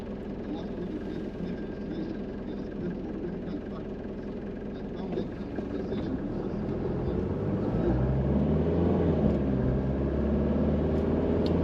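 A Mercedes W201 190D diesel car accelerating on a drive from Hamburg, heard from inside: a steady engine drone that swells louder and deeper about halfway through and holds there.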